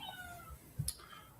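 A cat meows outside an office door, a single short, faint cry within quiet room tone.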